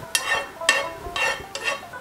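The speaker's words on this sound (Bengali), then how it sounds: "এখন আমরা সেই বাকি ঘিয়ের মধ্যে কিছু কিশমিশ দিয়ে ভেজে নিলাম" Raisins frying in ghee in a pan, heard as four distinct scraping stirs in a slow, regular rhythm over a faint sizzle, close up.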